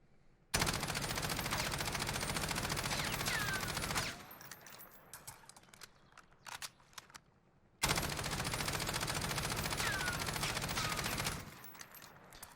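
A Ram 7 assault rifle with a 50-round magazine fires in Warzone in two long sustained automatic bursts, loud and close. Brief clicks and handling sounds fall in the gap between them.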